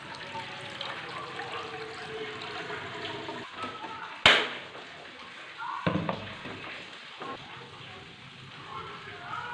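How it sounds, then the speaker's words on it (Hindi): Water pours into a steel bowl in a home kitchen, meant for boiling eggs: a steady, fairly loud rushing stream with a sharp metallic clank partway through. "तो सबसे पहले मैंने बॉल लिया है स्टील का, इसमें मैंने पानी शामिल करना है अंडे बॉयल करने के लिए।"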